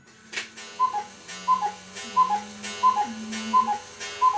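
A quarter-hour cuckoo clock made in Germany, freshly refurbished, ticks steadily with crisp, evenly spaced tick-tock beats close up, over a faint low hum and no talking.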